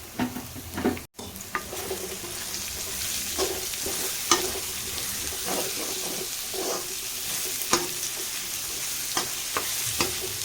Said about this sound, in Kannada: ಸೊ ಇವಾಗ ಈರುಳ್ಳಿ ಹಾಕಿ ಈರುಳ್ಳಿನ ಚೆನ್ನಾಗಿ ಫ್ರೈ ಮಾಡ್ಕೊಳ್ಳೋಣ.